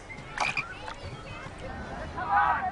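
Frogs croak in several short, raspy bursts, with a louder, fuller croak near the end, against a quiet background.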